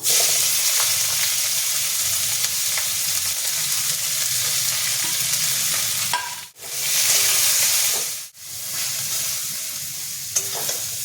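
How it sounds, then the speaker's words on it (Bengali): Onions frying in oil and ghee sizzle loudly and continuously, with stirring and two brief dips where the hiss momentarily quiets. "রসুনগুলো লাল করে ভাজা হয়ে গেছে এবার পেঁয়াজ দিয়ে দেবো"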